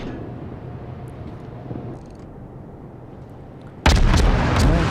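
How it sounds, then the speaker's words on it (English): Naval guns on a Farragut destroyer fire in World of Warships, heard over a steady low rumble of engine and sea. Then a sudden loud, dense burst of gunfire and explosions keeps going to the end. "And I'm going to continue to shoot at him for as long as I can."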